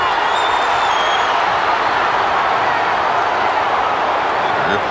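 A huge crowd of over 100,000 boxing fans roars and cheers at a fight, a steady, loud wall of noise that never drops.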